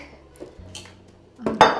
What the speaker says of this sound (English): grab my knife, and start slicing, chopping, squeezing